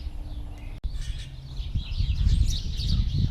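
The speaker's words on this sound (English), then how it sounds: "Birds are chirping." Birds chirp and tweet in quick, high bursts over a steady low outdoor rumble, fairly close and continuous throughout.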